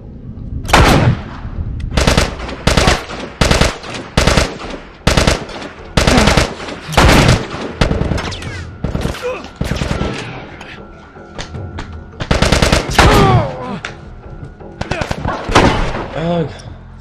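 Loud, close bursts of automatic gunfire and single shots repeat in rapid clusters during a firefight in The Last of Us Part II, with brief pauses between volleys and a voice speaking near the end.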